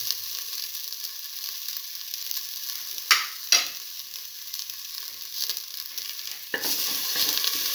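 Ginger and shallots stirred and fried with salt in a pan: a steady bright sizzle runs throughout, with two sharp scraping clanks near the middle and a louder burst of frying toward the end.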